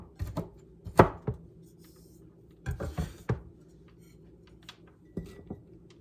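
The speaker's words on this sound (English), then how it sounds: "I'll just kind of chop it up a little bit" Knife chopping organic horseradish on a cutting board, sharp close thuds coming in short irregular bursts separated by quiet pauses.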